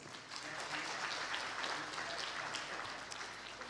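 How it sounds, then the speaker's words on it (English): An audience at a CEO forum for development financing institutions in Asia and the Pacific claps, producing a dense, continuous patter of applause. It sounds fairly distant and soft and holds steady before easing slightly at the end. "We have a big round of applause for all of us."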